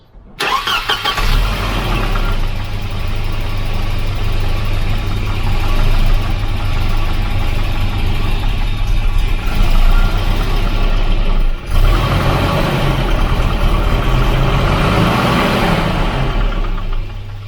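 A Volvo 244 engine runs roughly, idling loud and close in a steady, unbroken drone for the whole stretch, with a brief dip near the middle and no voices.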